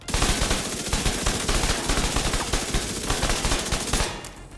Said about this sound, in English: Now I will let you guys hear the normal RPM compared to the buffed RPM with Umbra.